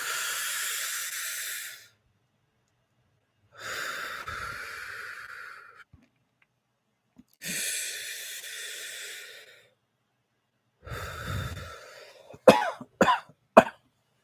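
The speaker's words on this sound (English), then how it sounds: "I got to cough out some stuff here." A person nearby exhales in long, breathy, hissing blasts separated by pauses, ending in a quick burst of sharp coughs.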